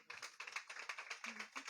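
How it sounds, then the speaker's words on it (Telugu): A church congregation at a Sunday service claps in a quick, steady rhythm of loud, close hand claps that run throughout. "గట్టిగా చప్పట్లు కొట్టండి."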